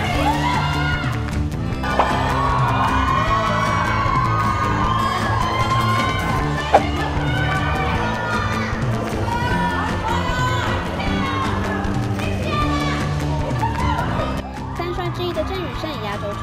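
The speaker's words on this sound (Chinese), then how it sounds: "听听现场此起彼落的欢呼声" Fans cheer and shout at a film promotion event where three famous Korean actors appear together, a loud, sustained crowd roar mixed with music and voices that swells and continues across the stretch.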